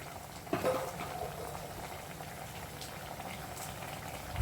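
Jackfruit seeds boil in a pot of water with salt and turmeric, a steady low bubbling and churning running the whole time, with a slightly louder burst near the start and no talking.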